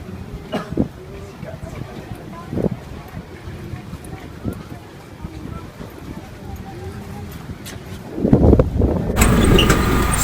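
A motor tricycle's engine drones steadily during a ride in Negros, with wind rumble, a few knocks, people talking over it, and a louder surge at the end.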